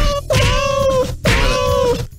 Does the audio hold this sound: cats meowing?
yes